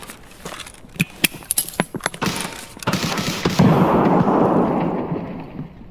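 Gunfire in Escape from Tarkov during a fight with player scavs: a string of sharp single shots at irregular intervals, then a long loud rumbling burst of sustained fire that fades out.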